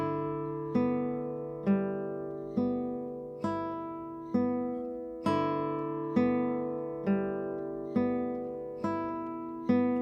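Classical guitar plucking a repeating waltz arpeggio pattern, notes struck in even groups with a fresh accent roughly every second, ringing clearly and alone over ten seconds.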